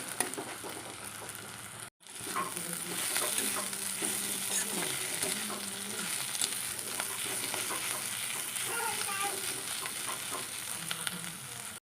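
Assamese fiddlehead fern greens fried with egg in a pan: a steady, close sizzle with stirring and scraping of a utensil throughout, briefly interrupted by a short gap near the start.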